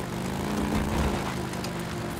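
Motorcycle engine idling or running steadily in the open-world zombie game Days Gone, a continuous close droning hum with no talk.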